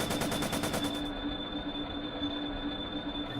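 Machine gun fire as a sound effect in an audio drama, a rapid dense rattle of shots in the first second giving way to a rumbling, droning background.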